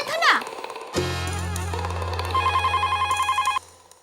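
A telephone bell rings indoors in a household scene of the Hindi TV sitcom Taarak Mehta Ka Ooltah Chashma, repeating in a steady rapid trill for a few seconds over a low hum before cutting off.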